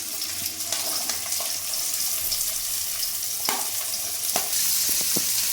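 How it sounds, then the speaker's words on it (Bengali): Potatoes, carrots and green chilli fry in a pan with a constant close sizzle and crackle, broken by a few sharp clinks of stirring. "আলু আর গাজরটাকে আমি ভালো করে লাল করে ভেজে নেব।"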